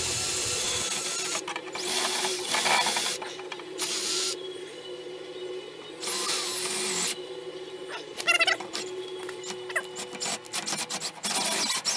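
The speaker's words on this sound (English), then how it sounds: "I'm going to grab the drill and the wire brush here and I'm going to go at her" A drill fitted with a wire brush whirs and scrubs against snow plow auger parts in repeated bursts of harsh abrasive buzzing, with steadier mechanical noise between them.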